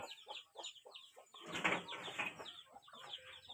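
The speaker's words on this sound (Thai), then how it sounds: "นี่ขอไก่เนาะพี่น้อง" Village chickens cluck in short repeated bursts, with a louder flurry of squawks and wing flapping midway, fairly near in a quiet rural setting.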